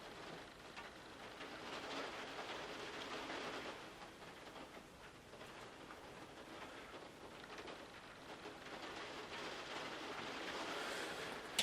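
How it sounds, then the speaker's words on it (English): Heavy rain falling outdoors near a lake, a dense, steady wash of drumming drops that holds at a fairly constant level throughout. "Oh, it's raining quite heavily now."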